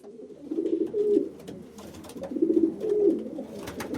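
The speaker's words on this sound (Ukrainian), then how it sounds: "Це голуб, великий птах із сизо сірим пір'ям." Pigeon cooing, a large grey-blue bird repeating two low throaty coo phrases close by, each a soft rolling burble, with no talking.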